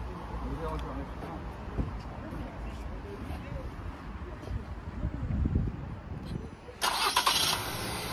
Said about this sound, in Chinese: 刚刚启动的时候，发动机都会抖一下，你现在都特别平顺